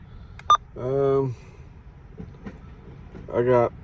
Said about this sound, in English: There's the head of train device.